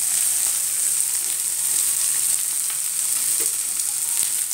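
Prawns frying in hot oil in a home kitchen, a dense, close and constant sizzle with bright crackling that runs unbroken throughout, with no talking.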